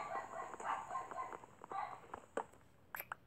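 A dog barks repeatedly at a neighbour's house in short, faint bursts, set against a steady background of other noise.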